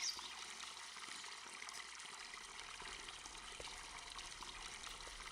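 Water pours steadily into a tank in the farming game Farming Simulator 22, a constant soft hissing trickle with no pauses or voices.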